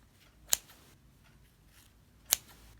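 Heavy-duty scissors snip through loops of yarn on a pom pom, two crisp separate cuts spaced almost two seconds apart against a quiet room background.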